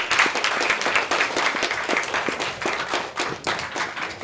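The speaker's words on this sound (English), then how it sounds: "could we give a big round of applause to our speakers?" Audience applause for speakers at a medical-field career event, dense steady clapping from a crowd lasting several seconds with no talk over it.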